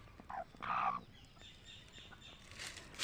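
A two-headed chicken clucks in a few short, close bursts, with soft background noise between calls.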